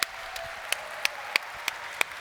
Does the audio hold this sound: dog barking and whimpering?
no